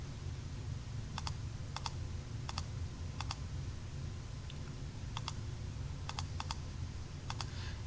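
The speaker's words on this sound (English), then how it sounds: "let's just type that into the calculator" Calculator keys tapped in short paired clicks, about a dozen spread across the stretch, fairly quiet over a steady low room hum with no talking.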